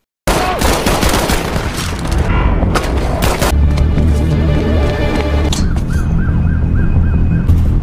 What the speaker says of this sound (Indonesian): Tiba-tiba dua anggota polisi saling tembak dan orang itu melarikan diri.